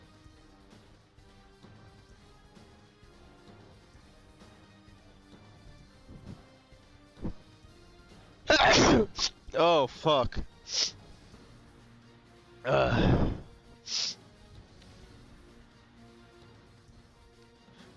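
A sick person sneezes in a room: a cluster of sharp, loud bursts, then another burst a few seconds later, with a brief spoken exclamation amid otherwise quiet surroundings.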